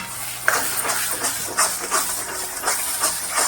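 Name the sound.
potato pieces frying in hot oil with masala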